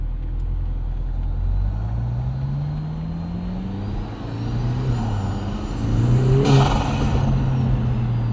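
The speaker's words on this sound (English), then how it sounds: "it's just turbo noise central in this car" 2024 Lotus Emira Turbo, a 400 hp AMG-powered sports car, driving with a rising engine drone and whistling turbo noise that climbs to a sharp peak near the end, loud and close, no talk.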